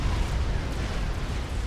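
Bombs burst in a Supreme Commander air battle, a dense, loud low rumble of overlapping detonations that never lets up.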